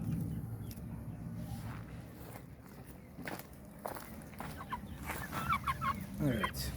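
Indian chickens and a pair of roosters cluck softly at a short distance among scattered footsteps and light scuffling, with the clucking growing busier toward the end.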